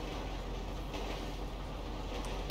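A train rolls past in the video game GTA 5, a steady, loud broadband rumble with rattling wheel noise that holds constant throughout, with no voices over it.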